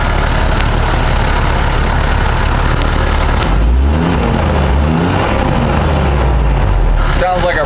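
A deuce army truck with a Hercules multi-fuel engine runs steadily close by, its low rumble continuous throughout and rising briefly as if revved, with no talk over it.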